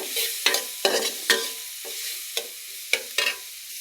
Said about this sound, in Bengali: দিয়ে এগুলো একটু ভালোভাবে ভেজে নিব যাতে কাঁচা গন্ধটা চলে যায়